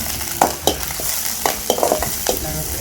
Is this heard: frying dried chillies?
yes